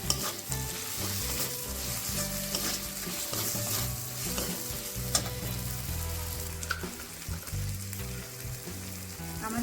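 Chopped green chillies fry in a pan for chicken dopiaza, giving a loud, steady sizzle with stirring throughout and no talking.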